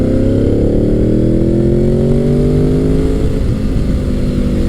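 A 1990s Honda sportbike engine revs hard and close, its loud, buzzy pitch sweeping up through the range in one continuous pull and easing slightly near the end.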